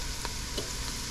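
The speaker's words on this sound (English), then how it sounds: "So we did have our onions and stuff sauteing for a while." Onions and vegetables sauteing in a pan, a steady, soft close sizzle with faint stirring scrapes and no talk.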